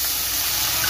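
Small onions and tomatoes sautéing in a pan for mutton kulambu give a steady, loud, close sizzle, a dense even hiss that carries on without a break.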